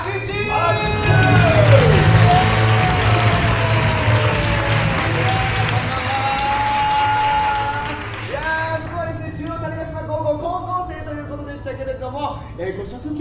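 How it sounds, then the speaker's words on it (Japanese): Applause and cheering from the audience at a Robotics;Notes stage play in Japan, a loud crowd burst that fades while an announcer's amplified voice talks over it with sustained tones from the stage. "拍手。"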